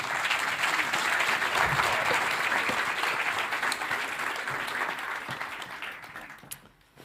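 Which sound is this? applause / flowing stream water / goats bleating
applause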